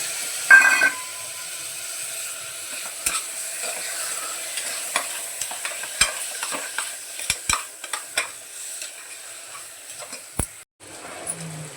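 Chickpeas sautéing with spices in a small amount of oil: a faint, low hiss broken by sharp scrapes and clinks of a spoon stirring against the pan, close by, with no talking.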